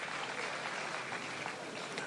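A crowd at a political youth event in Ghana gives a round of applause, steady dense clapping heard at moderate distance throughout.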